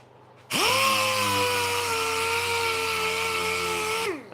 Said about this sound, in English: I haven't sanded them enough on the old linisher. I'll give them a little bit of sanding.